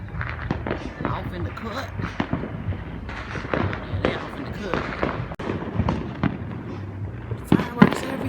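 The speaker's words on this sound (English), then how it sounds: "Fireworks everywhere. Fireworks over there." Fourth of July fireworks crack and pop nearby in scattered, irregular bursts, some sharp and loud, while a person talks over them.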